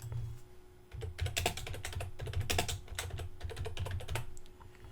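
Steady, close typing on a computer keyboard, rapid clicky keystrokes in bursts with brief pauses, alone with no speech.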